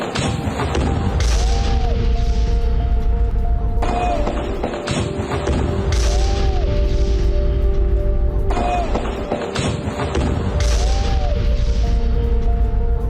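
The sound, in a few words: missile strike explosion on Hamas building in Jabalia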